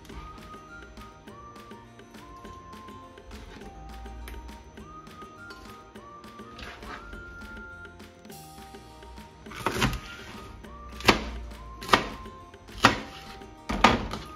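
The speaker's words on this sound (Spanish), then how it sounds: "a trocear los tomates, el pepino y el pimiento verde." A knife chops tomatoes, cucumber and green pepper on a board. Quiet scraping and tapping comes first, then several sharp, loud chops spaced about a second apart.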